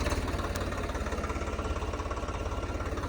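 A farm tractor's engine runs steadily close by on an onion field, giving a continuous low, throbbing chug with an even pulse and no break or talk.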